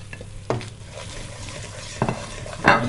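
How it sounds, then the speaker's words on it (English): Dry masala powders frying in a pan with oil as a spoon stirs them, a close steady sizzle broken by a few metallic scrapes and knocks against the pan. "And then give it a nice stir."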